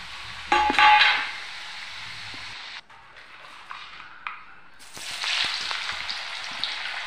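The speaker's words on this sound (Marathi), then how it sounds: "तेलामध्ये जास्त भाजू द्यायचं." Sliced potatoes fry in hot oil, a steady crackling sizzle that swells when more slices drop in, with a short clatter of utensils and quieter stretches between.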